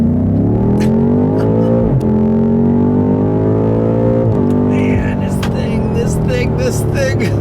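A 2018 BMW M5 accelerates hard on an open stretch of road, its engine note rising loud and steady from inside the cabin, with brief dips as gears shift.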